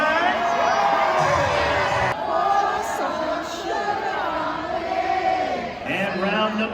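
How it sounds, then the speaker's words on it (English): A stadium crowd at a Banana Ball game bellows a song together during a sing-off, a loud, sustained chorus of many voices with cheers and yells rising over it. "round number 2, crowd sing-off goes to first base and right field side"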